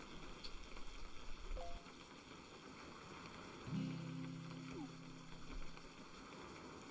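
Steady rain falls in the fishing video game Webfishing, a soft, continuous hiss throughout, with a brief low tonal game sound rising midway.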